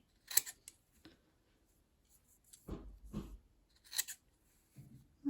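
Scissors snip fabric strips for a rag rug, a handful of short, crisp cuts spaced irregularly and heard up close in a quiet room.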